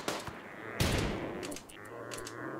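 Gunfire in the video game Rimworld: a sharp burst of shots opens, then a loud blast near the one-second mark, followed by a few thinner rattling shots, all close and with no talking.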